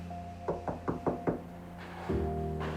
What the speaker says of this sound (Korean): 누군가 문을 두드리는 소리가 들렸어요.